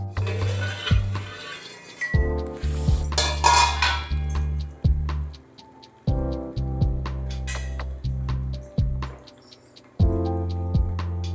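Sweet potatoes boiling unsalted in a pot are prodded with a knife, giving close metallic clinks and taps against the pot in short clustered bursts, with dull knocks and low rumbling between them.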